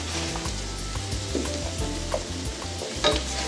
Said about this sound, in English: Let's put in the spinach.